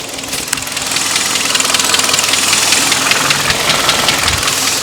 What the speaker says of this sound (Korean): 엔진 소리 한번 들려 보여드리도록 하겠습니다